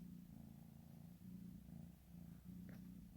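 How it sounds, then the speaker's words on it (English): A cat purrs steadily up close, a low rhythmic rumble rising and falling with each breath, with no voices. "Listen to the purr on this guy."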